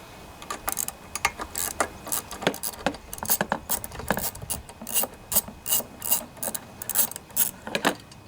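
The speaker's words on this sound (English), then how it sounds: "what I usually use to remove this is a 3/8 socket with an extension and a 7/16" wrench" A 3/8 socket ratchet with an extension works a carburetor bolt on a Toro lawnmower, giving a run of rapid clicking bursts close to the microphone with short pauses between strokes.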